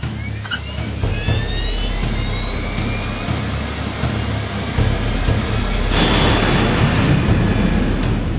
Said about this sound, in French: Poussée de décollage.